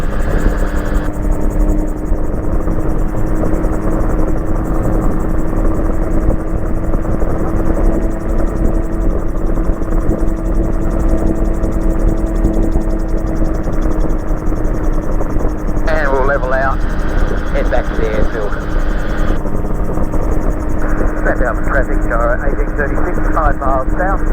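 A Magni M16 gyroplane engine holds a loud, steady drone from start to finish as it climbs under throttle. The sound is close, with a faint voice-like warble partway through.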